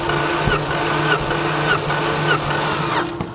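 An engine with all spark plugs out and the carburetor held at wide open throttle, hot and at operating temperature, cranking on the starter during a compression test; a steady, rhythmic whirring churn runs close and loud throughout.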